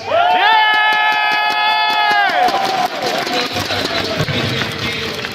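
A loud crowd at a company regional event in Las Vegas roars and cheers continuously, with shouting voices and a sustained chord ringing out over the noise for the first couple of seconds.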